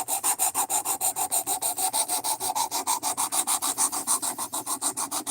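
Steady back-and-forth strokes of an ACR13 steel knife edge on a sharpening stone while a burr is raised, about five rhythmic rasping passes per second, close and clear with no talking.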